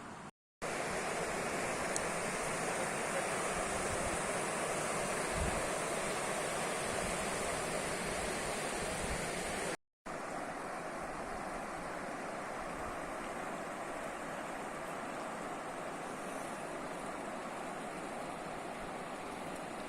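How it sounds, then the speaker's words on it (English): A steady, full rush of flowing river water in the Richtersveld fills the scene at sunrise, constant and close, with no voices and only a brief dropout partway through. "All you hear is the river."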